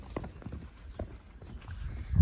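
A mare's hooves clip-clop on the ground at a ranch in a few uneven, fairly close steps, with faint background noise and no clear talk.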